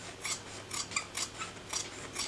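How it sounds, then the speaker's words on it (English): Scissors snip through fabric as a seam allowance is trimmed for a simple sewn crossbody bag, giving about seven short, crisp rasping cuts in a steady rhythm, close and quiet with no talking. "I'm just going to trim this seam allowance down"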